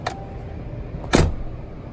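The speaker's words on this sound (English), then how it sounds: "This car has one of the great door latch sounds in the entire car industry, and it always has." Mercedes-Benz G-Class door latch shutting, a faint click followed about a second later by one sharp, solid clunk that fades fast against quiet background noise.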